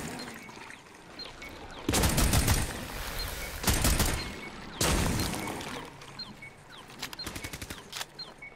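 Automatic gunfire in the video game Rainbow Six Extraction, fired at anchor points: three loud, rapid bursts separated by quieter stretches, followed by a run of lighter, faster shots near the end.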